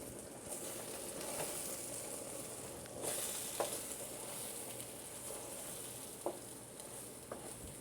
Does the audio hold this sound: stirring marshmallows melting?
yes